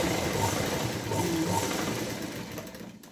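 A sewing machine stitches a blouse close up, with a steady, loud mechanical whirr that runs continuously and then eases off near the end.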